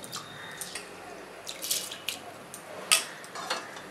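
Soaked rice and lentils tipped into a pot of water for sambar rice, a few faint, scattered splashes and drips, quiet and close with no talk.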